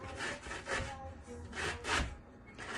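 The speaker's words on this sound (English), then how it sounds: "And she is going to grate that up nicely." Cauliflower being grated on the large holes of a grater for cauliflower fried rice, a rough rasping scrape repeating in steady strokes about every half second, close and moderately loud.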